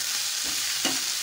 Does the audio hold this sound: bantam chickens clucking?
no